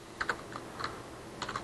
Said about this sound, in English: And I can go in and type in Paul